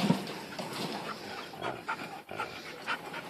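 A part-lab, part-shepherd dog pants steadily at close range on a homestead, quick breathy huffs repeating through the moment with a brief whimper-like note near the start, with no one talking.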